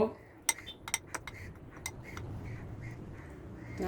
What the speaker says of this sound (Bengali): সামান্য একটু পানি দিয়ে সব আমি মিক্স করব